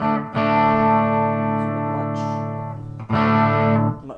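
A sustained electric guitar chord through a Line 6 Spider III 15-watt practice amp rings out with a long reverberant wash, cut briefly before a second strummed chord swells and decays.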